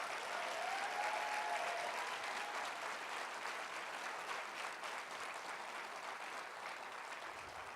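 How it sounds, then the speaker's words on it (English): Another round of applause from an audience at the Keeper Of The Dream 2019 ceremony, thick continuous clapping from many hands, fairly faint and steady throughout with a brief voice early on. "can we give them another round of applause"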